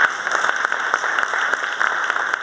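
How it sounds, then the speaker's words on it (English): An audience at a school student recognition awards ceremony applauds the principals with a dense, even stream of clapping from a crowd in a hall, held at a steady level from start to finish with no talking over it. "Principals, Mr. Severino and Ms. Brandt, if we could give them a round of applause"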